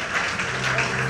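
A fashion show audience applauds in a brief burst of dense, steady clapping heard from within the crowd.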